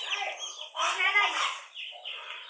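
Chickens and week-old chicks make high, short peeps and chirps in irregular bursts, close and clear, with a louder tonal call in the middle.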